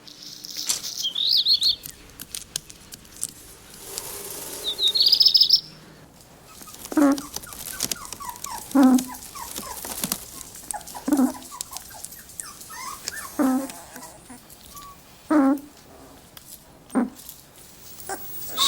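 Young black-and-white puppies whimpering, a series of short, high, plaintive squeals repeating every couple of seconds, fairly close, amid faint background noise and occasional brief chirps.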